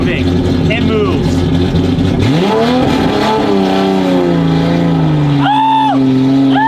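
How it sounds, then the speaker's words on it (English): An abandoned Datsun 280Z's engine runs and revs as the car makes its first drive in five years, the drone rising and falling steadily, with excited voices talking and shouting over it. "Oh my God, the car's moving. It moves."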